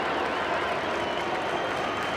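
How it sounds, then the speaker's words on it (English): Stadium crowd at Brookvale, a 1988 rugby league tour match, applauding steadily as a player leaves the field, a dense, even wash of clapping and cheering that holds at one level throughout. "He's getting a standing ovation here at Brookvale as he comes off."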